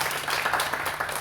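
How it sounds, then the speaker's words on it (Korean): A church congregation claps together during a Sunday afternoon worship service, a brief, steady patter of many hands at moderate level with no talking over it. "다시 한번 박수 한번 드리겠습니다."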